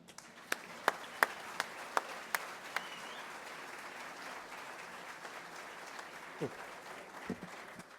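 An outdoor audience at a street-naming ceremony in Louisville applauds steadily to welcome a speaker, a broad wash of clapping with a few sharp nearby claps, fading toward the end.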